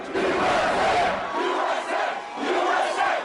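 Large crowds celebrating outside the White House and in Times Square, New York, a loud roar of many voices cheering and chanting in swelling waves, close and dense.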